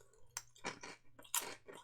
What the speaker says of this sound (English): I'm sorry if I chew like a cow.